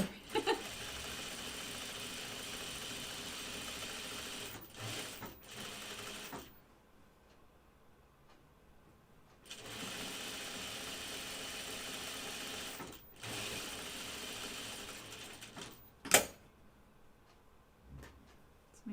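A sewing machine stitches a Blanca flight suit in bursts of steady whirring, running for several seconds, pausing to near silence, then running again, with a few sharp clicks and knocks between runs.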